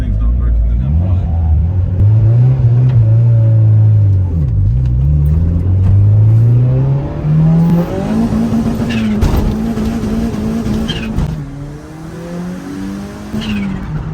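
A 30-year-old turbo Honda, neglected for years, accelerates through the gears with a loud, climbing engine note and tire squeal, pitch rising and dropping at shifts, while people talk inside the car.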